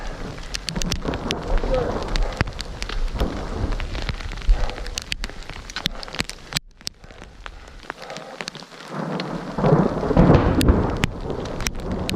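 Heavy rain pattering on surfaces in a thunderstorm high in the Beartooth Mountains of Montana, with low thunder rumbles and gusts running steadily throughout, loudest near the end.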